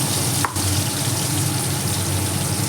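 Pieces of pointed gourd (potol) fry in hot oil with a steady, dense sizzle that holds close and even throughout. A brief soft clink sounds near the start.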